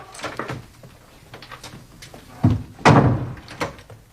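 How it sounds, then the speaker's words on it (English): An indoor door is pushed shut with soft shuffling movement and then a couple of solid thuds close by, the heaviest impact landing near the end. "Now go on and shut the door."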